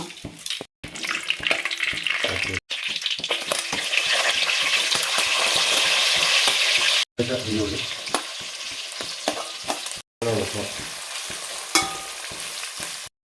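Bay leaf and fenugreek seeds fry in hot coconut oil, a loud continuous sizzle with stirring scrapes, broken by a few brief silent gaps.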